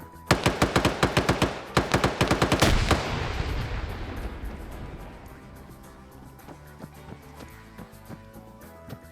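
Rapid bursts of machine-gun fire in a shooter video game, then a heavy grenade-like blast whose rumble and ringing decay over several seconds, with scattered shots continuing faintly afterward.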